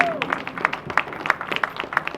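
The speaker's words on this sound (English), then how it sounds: "If you want to give applause" Scattered applause at a school band fall show, with distinct rhythmic claps standing out over a thin crowd background; a short whistle-like tone sounds at the very start.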